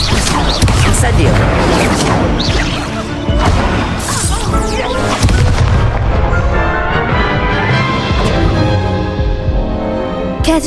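The Incendio fire spell is cast in Hogwarts Legacy, a dense, continuous burst of crackling, booming impacts and whooshes that stays loud for about ten seconds and fades slightly toward the end.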